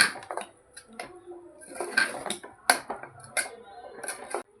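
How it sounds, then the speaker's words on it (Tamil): White vegetable kurma being stirred in a pot right after salt goes in, a ladle clinking and scraping against the metal in short irregular strokes, close and fairly quiet. "ஆட் பண்ணிவிட்டு நல்லா கிளறி விடுங்க"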